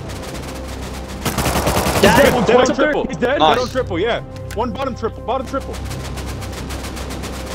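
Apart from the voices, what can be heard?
gunfire from an L9 rifle in the video game Rust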